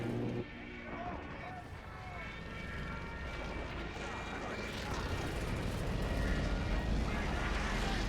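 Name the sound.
airplane engine in a video game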